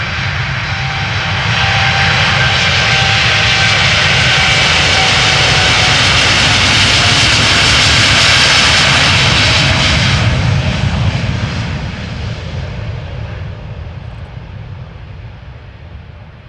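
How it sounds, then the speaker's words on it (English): KLM Boeing 787-9 Dreamliner bound for Bogota roars past at Schiphol, its jet engines building to a loud, close broadband roar with whining tones, peaking mid-way and then fading as it moves off. "This is KLM flight 747 going to Bogota, Boeing 787-9 Dreamliner."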